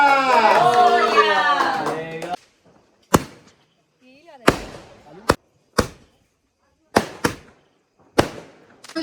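After a burst of lively talking, sharp firecracker bangs go off one by one at irregular intervals, loud and close, with quiet gaps between.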